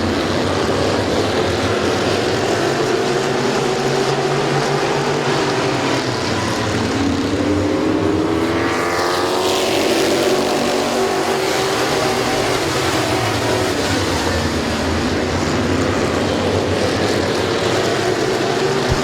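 Race cars roar around Midvale Speedway in a loud, continuous pack, engines swelling and fading as they pass through the turns, with a clear Doppler sweep midway.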